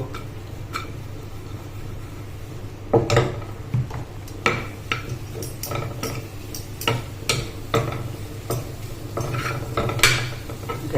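A spoon stirs shrimp, mushroom, broccoli and cabbage in a pan, giving repeated clinks and scrapes of metal on metal over a low steady hum, with sharper clatters coming at irregular intervals.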